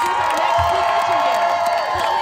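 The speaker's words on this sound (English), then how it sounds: "let's hear a round of applause for these families" A rally crowd in front of the Supreme Court cheers and applauds in a dense, steady roar of clapping, whoops and shouts, loud and continuous throughout.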